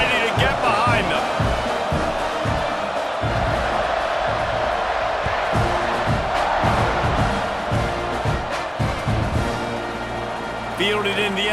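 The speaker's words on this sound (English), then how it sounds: "this crowd now ready to get behind them" A football stadium crowd at an Oregon vs Texas A&M game roars and cheers as the kickoff approaches, a loud, sustained wall of voices with rising swells and rhythmic chanting bursts.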